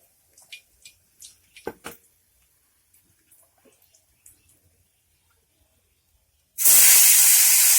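A few scattered clicks and taps, then a loud, sustained hiss and sizzle erupts and continues as small river fish hit hot oil.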